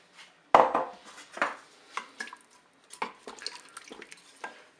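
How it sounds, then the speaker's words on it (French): Peeled tomatoes tipped into an open Cookeo pot for pork roast with vegetables: a sudden wet thud and splash, then several soft plops and metallic clinks of a utensil against the pot, close and fairly loud. "maintenant j'ajoute les tomates pelées"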